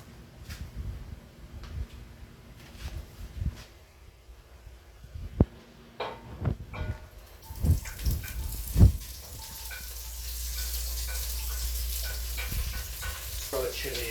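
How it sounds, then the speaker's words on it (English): Onions frying in hot oil in a hot pan, with scattered clicks, knocks and a voice early on, then a steady, close hiss of sizzling that builds and holds to the end. "And now we fry the onions."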